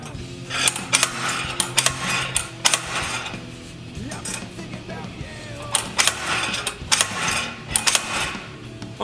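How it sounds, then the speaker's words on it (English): A slide hammer works on an engine during a leakdown test in a garage, giving a series of sharp metallic clanks and impacts at irregular intervals, with a steady mechanical hum beneath. "we definitely want to keep pressure on it while we're using the slide hammer"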